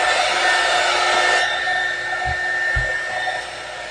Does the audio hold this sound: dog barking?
no